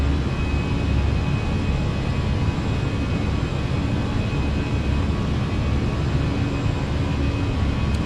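Airbus A319 engines at climb power in Microsoft Flight Simulator 2020, a steady, loud broadband roar with a faint high whine held evenly throughout, no talk.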